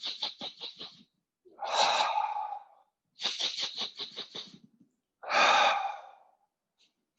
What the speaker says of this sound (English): You're going to breathe in, lift up and down on the nose, clearing the lungs. Exhale out, letting go.